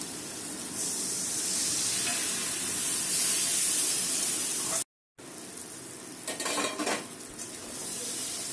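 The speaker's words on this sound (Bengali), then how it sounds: "এবার এগুলো ভালো করে কষিয়ে নেব" Egg curry masala with chili being stir-fried in a pan: loud continuous sizzling with spoon scraping and clinking against the metal, a brief dropout midway, then renewed stirring clatter.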